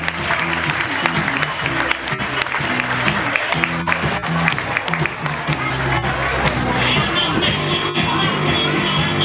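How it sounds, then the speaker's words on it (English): Large outdoor crowd at a police open day applauding during a police dog demonstration, with sustained clapping and some cheering over music and a loudspeaker voice, continuing steadily throughout. "Big round of applause for our police dogs and our crowd."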